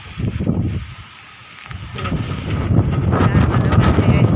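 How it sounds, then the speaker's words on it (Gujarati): Gusty wind in a village, strong enough to make trees sway heavily, roars and buffets the microphone, easing for a moment before swelling into a steady, loud rush. "આવે છે પવનનો અવાજ આવે છે એટલો"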